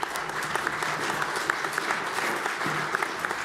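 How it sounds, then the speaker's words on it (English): An audience at a conference session on nuclear autonomy applauds a speaker, a steady, even wash of clapping from many hands throughout, moderately loud with no break. "please do put your hands together in a round of applause for Dr."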